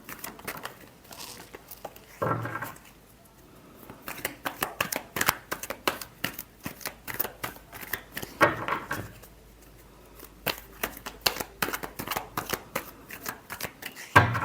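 Tarot cards being shuffled by hand, close and crisp, in repeated riffling bursts with short pauses between them, quiet and without talk.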